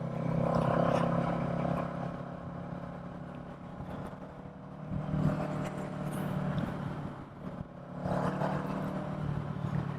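A Kawasaki Eliminator motorcycle rides up onto the highway, its engine droning and rising through gears over steady wind and road noise, moderately loud and continuous.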